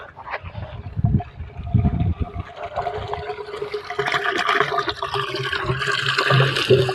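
Water gushes from a running motor pump in a steady, rushing stream with a low churning rumble underneath, growing fuller and louder toward the end, with no speech.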